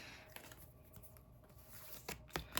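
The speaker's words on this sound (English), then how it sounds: "So you're going to shuffle these cards and then randomly pick however many you need to" Board game cards being shuffled at a table, with quiet soft riffling and light papery rustles that end in a few sharper snaps.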